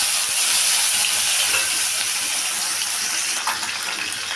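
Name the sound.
fish pieces frying in oil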